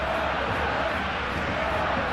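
A stadium crowd roars steadily throughout a Barcelona vs Atletico Madrid match in the eFootball video game, a dense, loud, unbroken wash of cheering.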